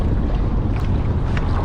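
Strong gusting wind buffets the microphone on the water while kayaking through big swells, a loud continuous low roar that stays heavy throughout with no talk.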